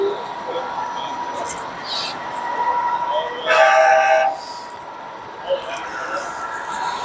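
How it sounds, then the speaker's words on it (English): A long Märklin model container train, with a second locomotive pushing at the rear, runs at a model train show. A continuous electric hum sits under brief whistle-like bursts and the murmur of a crowd. "Big long container train with another engine and the back is a pusher."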